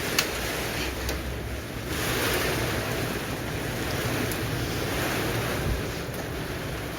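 Rain shower with wind on an allotment: a steady hiss of falling rain with gusty wind noise buffeting the microphone, continuous and fairly loud, no voices.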